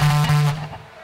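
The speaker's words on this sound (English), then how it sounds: "my bass is going to sound like this now." An electric bass guitar is played live at a final show. One loud, sustained low note with buzzy overtones rings for about half a second, then fades out.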